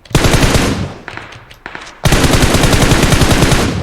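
Bursts of rapid automatic gunfire in a shooting video game, a long loud burst, a brief quieter gap with scattered shots, then another sustained burst close up.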